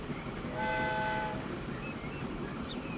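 A train air horn in Transport Fever 2 on a USA Rust Belt map sounds one steady, multi-tone blast of just under a second, then fades into a low rolling rumble with a few faint higher squeals.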